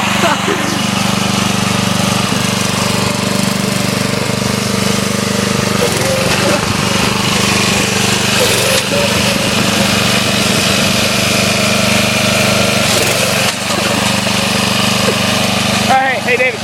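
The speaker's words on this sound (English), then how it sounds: "we have this awesome lawnmower" A lawn mower engine runs steadily and loudly throughout, with a constant droning hum and no breaks.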